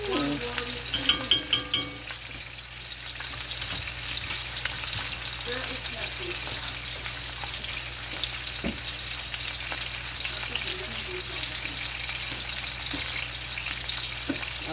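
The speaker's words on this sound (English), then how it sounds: "Pick up that butter sauce and you start basting that steak with it." Steak sears in a pan and is basted with real butter sauce, giving a steady, loud sizzle throughout, with a few sharp clinks of utensils near the start.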